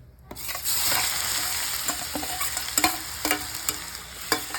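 Ginger garlic paste, a mix of about 100 g each, sizzles steadily in hot sesame oil for a prawn pickle, with a dense continuous hiss and occasional scraping stirs from a spoon.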